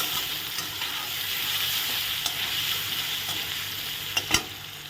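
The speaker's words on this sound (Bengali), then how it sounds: "লাল লাল করে আলুটা ভেজে নিয়েছি দেখো একদম ভাজা হয়ে গেছে আলুটা" Potatoes seasoned with salt and turmeric fry in a pan with a steady, close sizzle, stirred now and then, with a couple of sharp clinks near the end and no talking.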